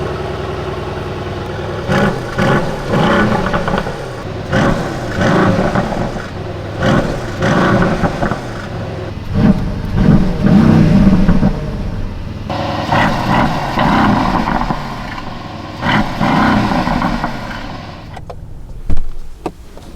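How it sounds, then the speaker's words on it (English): A 2020 Mercedes-AMG 63 SUV with a V8 biturbo and 4MATIC Plus, heard close from outside: loud, continuous engine rumble with repeated revs rising and falling, sometimes sharper in race mode. "we'll check out the exhaust sound of this 63 AMG with a V8 Biturbo 4MATIC Plus"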